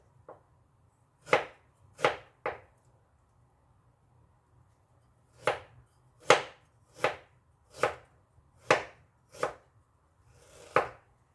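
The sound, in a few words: knife slicing ginger thinly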